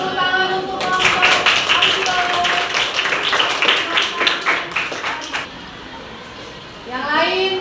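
Schoolchildren in a classroom clap for a group with a burst of fast, uneven claps lasting several seconds. Young voices chatter over the applause before it fades, then talk resumes.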